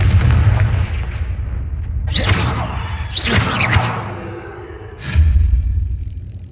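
Blasts from the Confringo fire spell in Hogwarts Legacy, three separate booming explosions with whooshing bursts spaced a second or two apart, each falling into a rumbling decay, loud and close.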